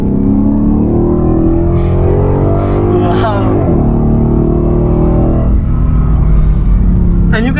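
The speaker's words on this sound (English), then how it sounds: "you can hear that V8 purr so very well" A Ford Mustang V8 revs and accelerates, a loud deep rumble swelling into a rising engine note and then settling, heard from inside the car with a person talking over it and a brief exclamation.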